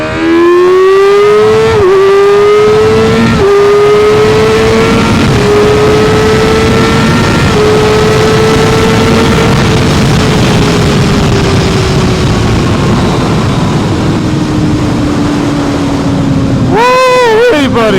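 A Kawasaki ZX-6R motorcycle accelerates hard through the gears, its high-revving engine wailing upward with brief dips at each shift, then holding a long steady pull before revving sharply again near the end.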